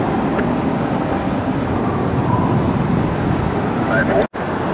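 American Airlines flight 1427, a jet airliner at Cleveland Hopkins Airport, produces a steady, loud roar of engine noise that holds constant throughout, broken only by a brief dropout near the end.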